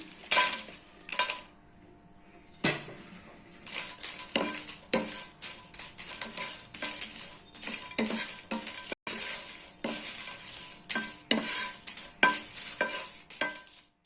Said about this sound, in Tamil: இப்போ இந்த காஞ்ச மிளகாய் போட்டு வறுத்துக்கலாம்.